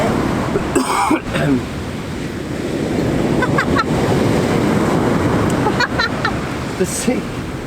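Sea waves rolling in fast on a December shoreline, a steady loud wash of surf and wind noise, with brief voices and a cough breaking in.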